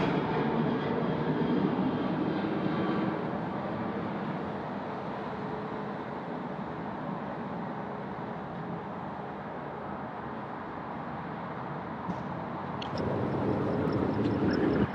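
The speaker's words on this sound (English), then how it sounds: "737-800, rolling runway 16 right." A Boeing 737-800 rolling down runway 16 right at Sydney Airport on a heavy rain night, a continuous distant broadband engine roar blended with rain hiss, steady throughout with a slight swell near the end.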